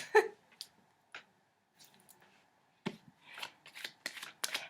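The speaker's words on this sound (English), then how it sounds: "I'm just gonna start shuffling your cards to see what comes out." Tarot cards shuffled by hand, a series of short crisp riffles and slaps at close range, sparse at first and then quicker in a cluster near the end.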